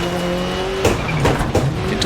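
A Subaru Impreza rally car in DiRT Rally 2.0 on a New Zealand stage revs hard up close, the engine pitch rising, dropping at a gear shift, then climbing again over tire and gravel noise.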